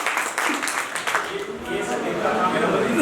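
An audience at a college closing session claps, a brief wash of applause that fades quickly beneath someone speaking.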